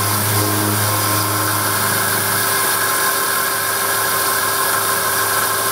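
A machine tool cuts an etching press bearing housing, giving a loud, steady droning hum with sustained tonal whine that runs unbroken throughout, close up and without talk.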